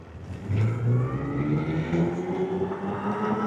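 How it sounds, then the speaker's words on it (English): An electric kids' ATV, a Denago E-Hawk 6, spins its lifted inside tire, giving a steady rising electric motor whir with a tonal whine that climbs in pitch, fairly close and continuous for several seconds. "See, now it's spinning that inside tire."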